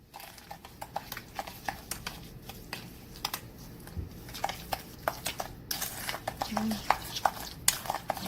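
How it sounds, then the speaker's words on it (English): Light brown sugar mixed into butter in a bowl, heard as a rapid, uneven run of tapping and scraping strokes from a utensil against the bowl. "I'm just gonna add it to the butter, and I'm just gonna mix it."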